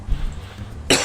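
A single sharp, close cough bursts out loudly after a near-silent pause and carries on to the end.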